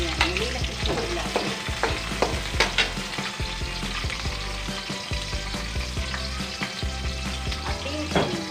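Garlic and onion sautéing in a hot pan give a loud, constant sizzle up close, broken by scraping and clacking as the pan is stirred, with no voices.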